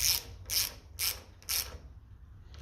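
Fittings on a 1955 Ferguson 20 tractor are tightened with a ratcheting tool, giving four evenly spaced bursts of metallic clicking and faint quiet handling afterward.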